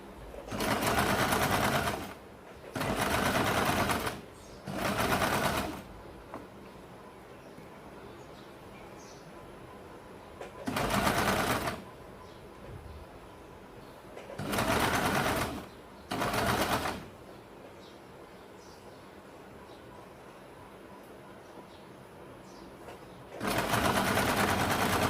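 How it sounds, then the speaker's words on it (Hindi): A sewing machine stitches a curved seam around a blouse armhole, running in loud, steady bursts of a few seconds each with short pauses between them over a low background hum. "और यहाँ पे आपको गोलाई में सिलाई लगानी है।"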